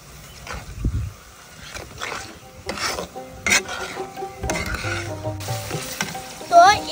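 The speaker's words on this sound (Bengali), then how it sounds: "ভালোভাবে টেনে নিচ্ছি" Green chili pickle being stirred in a pan, with scraping and sizzling strokes in irregular bursts and a few faint background clinks.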